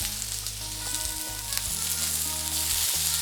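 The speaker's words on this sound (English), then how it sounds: "first we're gonna get our onions in. Woo! Peppers popping" Onions and peppers for steak fajitas frying in a hot pan, a loud, continuous close-up sizzle with a steady low hum underneath and no talking.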